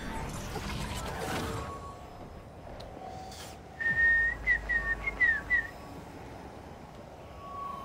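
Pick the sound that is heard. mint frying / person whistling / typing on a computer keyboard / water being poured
person whistling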